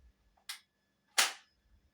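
An M416 toy airsoft gun from a 3-in-1 kids' set gives two sharp trigger clicks, a small snap followed by a louder, longer crack, both close-up in a quiet room.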